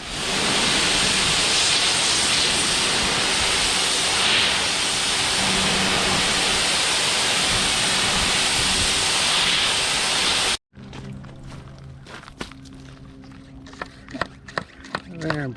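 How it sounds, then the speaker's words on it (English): Water sprays hard and steadily onto the windshield of a grimy 1994 Nissan minitruck, a loud continuous hiss up close that cuts off abruptly. Scattered clicks, knocks and handling noises follow. "let's wash this windshield off"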